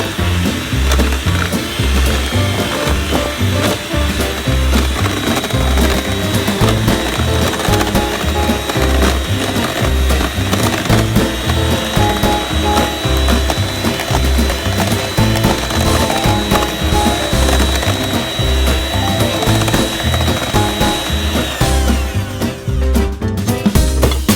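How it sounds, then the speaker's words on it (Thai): An electric mixer whips batter with baking powder to make it rise for Thai bucket pancakes, a loud continuous mechanical whirr with rattling and a steady whine that cuts off near the end. "ในขั้นตอนต่อไปจะเป็นการปั่นแป้งเพื่อให้แป้งนั้นขึ้นฟูครับ"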